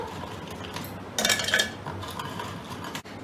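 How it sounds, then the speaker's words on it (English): Oreo cookies mixed with their cream filling being crushed in a bowl, a brief burst of crunchy scraping and clinking around the middle over quiet background noise. "अब हम इनको क्रश करेंगे."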